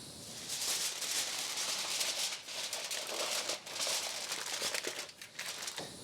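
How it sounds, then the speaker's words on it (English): Aluminum foil being pressed tightly over a baking pan for a holiday dinner, a continuous close crinkling and rustling with a few brief pauses, heard alone. "Now we are supposed to cover this pan tightly with aluminum foil."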